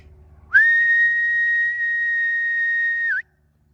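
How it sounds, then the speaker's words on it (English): A long steady whistle blown to call Labradors on a countryside walk, a single sustained tone lasting nearly three seconds, loud and close, with a slight pitch dip at its end and no talking. "Right, stand by. I'm going to whistle."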